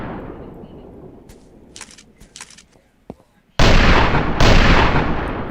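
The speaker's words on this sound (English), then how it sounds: "it's firing from the other barrel." Model 1894 lever-action rifle firing in an in-development video game: faint shots and clicks at first, then two loud, sustained blasts of gunfire close and dominant, the second following shortly after the first.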